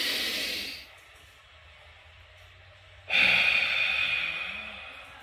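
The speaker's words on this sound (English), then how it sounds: "Three more big breaths." Deep breaths taken while holding a child's pose stretch in a Kinstretch session: a long airy exhale fades out, a quiet pause follows, then a sharp, strong inhale or exhale rises and slowly tapers, close and alone.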